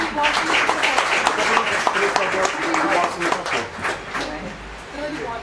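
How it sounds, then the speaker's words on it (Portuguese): Audience at a Cape Verdean authors' society rights-distribution evening clapping for award recipients, a steady crackling round of applause that tapers toward the end, with voices mixed in. "peço mais uma salva de palmas para os nossos contemplados"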